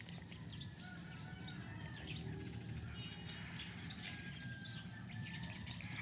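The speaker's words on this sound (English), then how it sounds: "Ooh, birds! I love birds. It's a lot of birds, actually." Morning birds chirp and tweet outdoors, several scattered calls at a moderate distance over a steady low background.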